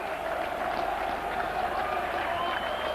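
A large rugby league crowd at the Stoop Memorial Ground, London, holds a sustained roar of applause and cheering, a broad continuous wash with a commentator speaking over it.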